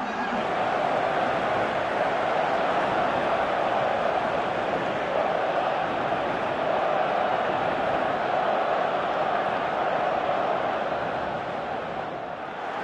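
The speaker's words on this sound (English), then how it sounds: "Crowd calling for him to shoot." A stadium crowd in a PES football video game roars and chants in a dense, continuous wall of sound, loud and steady throughout with no clear individual voices.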